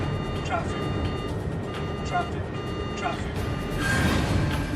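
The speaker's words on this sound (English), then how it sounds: "its onboard traffic collision avoidance system, TCAS, sounds an alert." An airliner cockpit's TCAS traffic collision avoidance alert sounds at 36,000 feet over Switzerland: a few short, repeated electronic chirps ring out over a loud, steady engine and cabin drone.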